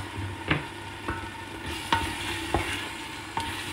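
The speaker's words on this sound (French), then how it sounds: "il faut vraiment laisser cuire la tomate dans l'huile" Tomato and hot chili cook in oil in a pan for a Tunisian fish couscous, giving a steady, close sizzle broken by a few sharp spoon scrapes and taps as it is stirred, with no voices.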